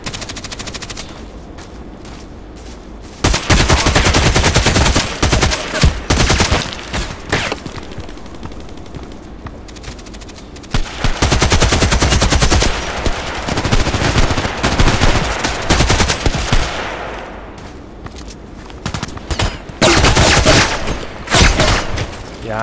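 Long, loud stretches of automatic gunfire in the Contract Wars shooter, AK-12 assault rifle and other weapons, sustained bursts with brief pauses between them, no talking.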